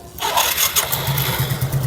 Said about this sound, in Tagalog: Dapat papaandarin rin yung motor. Subukan natin paandarin.